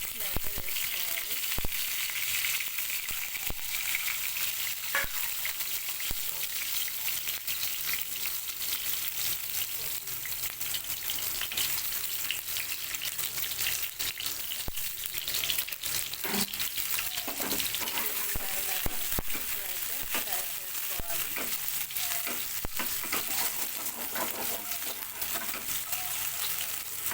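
Slit boiled eggs fry in a pan for an egg masala curry, with a long, even, close-up sizzle and scattered spattering crackles and faint scrapes throughout.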